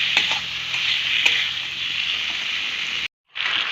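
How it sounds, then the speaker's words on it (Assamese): Fried small potatoes and spices sizzle steadily as they are stirred in a pan over a low gas flame for a potato and fish curry. A few scraping stirs rise above the loud frying before a brief silent break near the end. "ভাজি লোৱা আলুখিনিৰে সৈতে মছলাখিনি আকৌ অকনমান সময় ভালদৰে ভাজি লম"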